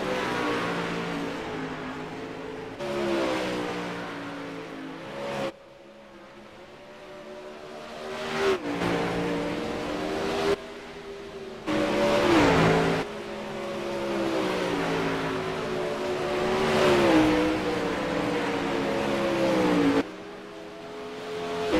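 Race car lapping a circuit, its engine climbing and dropping through the gears in repeated revving sweeps, with loud surges as it passes nearer and quieter stretches as it runs off around the track; no talking.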